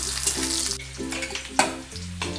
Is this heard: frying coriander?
yes